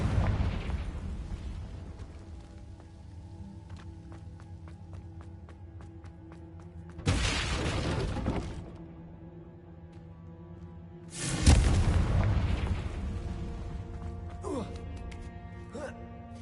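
The Confringo blasting spell in the video game Hogwarts Legacy sets off two loud booming bursts, each a sudden blast with a brief rumbling tail, over quieter game ambience.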